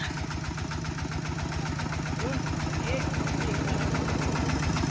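A farm vehicle's engine runs steadily and loudly through a rice harvest, with a continuous low rumble and people talking over it throughout.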